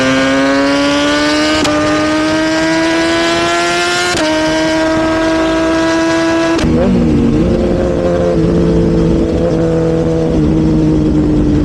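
A fancy car passes on the road, its engine rising in pitch through strong harmonic revving that steps up through the gears, then a steadier, lower drone with a pitch bend as it goes by; loud and close, no talk.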